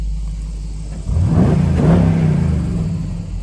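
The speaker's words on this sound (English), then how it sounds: "Let me give a little gas. I'm going to sport mode," A 2022 Dodge Durango R/T in sport mode sits idling, then the engine revs up in one quick rising surge and eases back down to a steady low rumble, close and loud.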